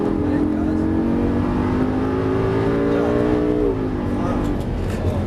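A Lamborghini LP 560-2 engine revs hard as it accelerates on a race circuit, pitch climbing steadily then dropping sharply as the gear shifts, loud and close, steady roar throughout.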